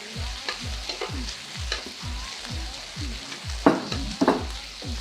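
Brisket frying crispy in a pan, a steady sizzle with repeated rhythmic stirring or scraping strokes about twice per second, close and fairly loud, a couple of sharper clatters near the end, no talking.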